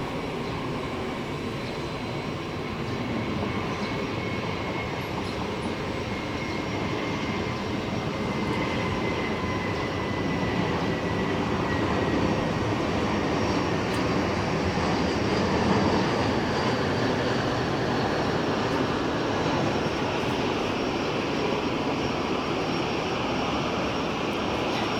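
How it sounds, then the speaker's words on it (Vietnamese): A Vietnam Airlines Airbus A321 lands on runway 25R at Saigon airport, its engine roar loud and steady, rising slightly midway and holding for the whole stretch, with no talking. "bây giờ thì chiếc máy bay đang bước vào hạ cánh đường băng 25 phải là chiếc Airbus A321 của Vietnam Airlines"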